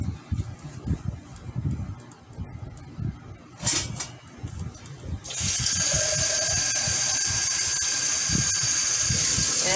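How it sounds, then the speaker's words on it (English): Water pours steadily into a pot for bone broth, a continuous bright rush that starts after a few seconds of clatter and keeps running to the end. "And now we're going to add water."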